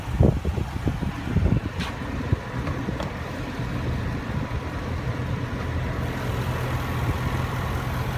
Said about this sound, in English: Under the hood is a 5-liter supercharged V8 engine